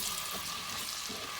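Onions fry in a pan for an aloo gobi curry, giving a brief, soft, even sizzle with a faint crackle and no voices.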